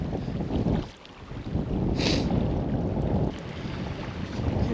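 Steady wind gusting at the Lower Owens River during trout fishing, a constant broadband rush that dips briefly before rising again, loud and close on the microphone with no talk.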